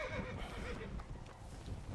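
A horse in the Western game Red Dead Redemption: Undead Nightmare gives a loud, close whinny over the thud of its hooves, which keep clopping for the whole two seconds.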